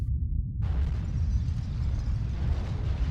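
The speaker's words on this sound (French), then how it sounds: "Une explosion." A deep, rumbling blast swells in after a brief low thud and keeps roaring steadily, heavy and loud in the low end.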